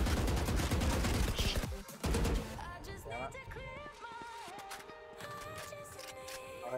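Gunfire in the Valorant first-person shooter, a loud burst of shots up front followed by electronic game tones and effects.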